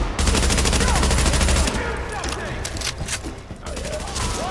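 Gunfire in Tom Clancy's The Division on Xbox One, in an underground area. A rapid automatic burst opens, followed by scattered nearby shots under a player's voice.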